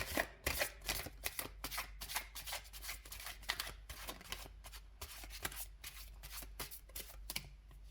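A deck of cards is shuffled repeatedly during a pick-a-card reading, with quick crisp riffles and slaps in uneven bursts, close and fairly quiet.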